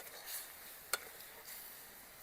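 A papaya and jaggery laddu mixture cooks on low heat with a soft sizzle, and a spoon scrapes through it in slow stirring strokes, with one brief sharp tap against the pan.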